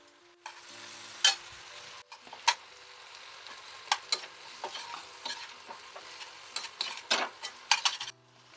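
Broad beans fry in ghee in a pan with a soft, steady sizzle, broken by frequent sharp scrapes and clinks of a spoon stirring against the metal, close and quiet with no talking.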